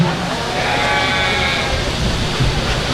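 Junior show goats bleat amid the steady din of a county livestock show, their calls blending into a dense, continuous crowd and barn noise.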